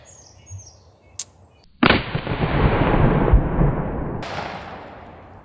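A black powder smoothbore pistol with percussion cap fires once, a sharp loud blast that rolls into a long, fading boom, preceded by faint clicks and followed by a brief high rattle.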